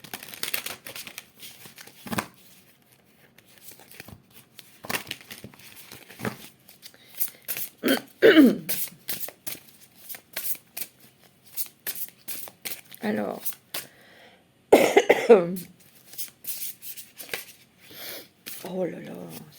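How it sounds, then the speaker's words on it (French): Oracle cards being shuffled in soft papery bursts, light riffles and taps with short gaps, under a little nearby speech. "on va prendre une carte avec l'oracle"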